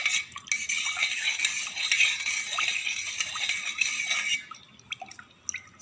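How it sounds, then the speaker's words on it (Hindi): Yogurt mixed with spices in a bowl, whisked briskly with a spoon, giving a continuous close scraping and wet stirring rattle that stops near the end, followed by a few scattered clinks. "अब सारे चीज़ को अच्छे से फेंट लूँगी।"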